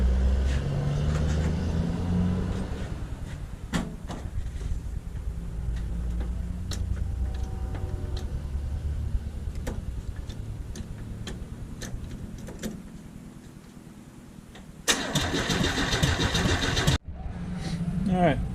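A 1968 Chevrolet C10 pickup engine cranks with a rapid ticking rhythm under steady low rumble, then near the end a loud burst as it fires and catches before a brief cutoff; people talk over parts of it.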